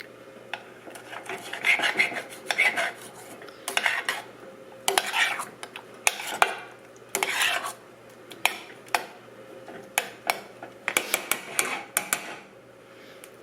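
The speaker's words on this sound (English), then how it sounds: "I just want to break up the chunks and just heat it up a little bit" A utensil scrapes and clinks against a pan while mashing chunks of fresh peach, in irregular close strokes with short gaps between them and no talking.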